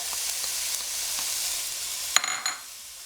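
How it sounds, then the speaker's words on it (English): Sausage, onion and garlic sizzle steadily in a pan for several seconds, a bright crackling hiss with a few soft stirring knocks, then a sharper clatter near the end before the sizzle fades lower. "that sausage is going to continue to cook while the onion and garlic are cooking"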